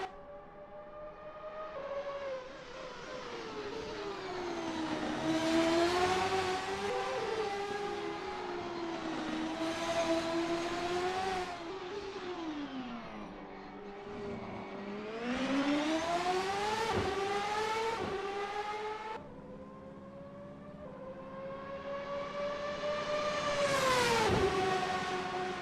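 CART race cars from 1999 at Long Beach in a racing video game, engines whining and rising and falling through gears on a practice lap, loud and continuous with passing swells.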